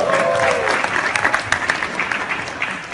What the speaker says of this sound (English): why not a round of applause, right?